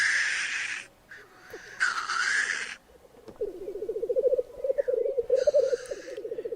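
Harsh, raspy corvid calls in three loud bursts with short gaps between them, plus a lower croaking, rattling trill running underneath during the second half.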